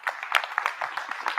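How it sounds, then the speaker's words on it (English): A small group claps briefly at a fishing tournament award show, giving a quick run of light, uneven hand claps lasting just over a second. "Yeah, I can clap for that if you want."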